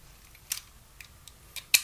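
A new blade slid into a knife: a handful of small dry clicks and scrapes, close and crisp, ending in a louder snap as it seats, with no voices.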